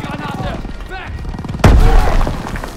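A grenade in Call of Duty WW2, set in a D-Day battle, bursts in one loud, close boom after excited shouting and lingers in a rumbling tail while a voice keeps yelling.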